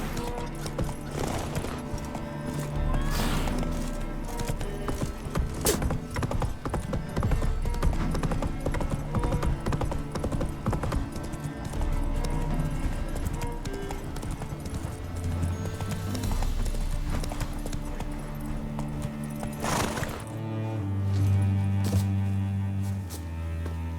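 Horse hooves clip-clop steadily on a road in The Witcher 3 game, a continuous near trot with occasional snorts and whinnies over game music and ambience.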